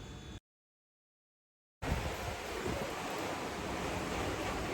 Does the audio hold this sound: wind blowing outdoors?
yes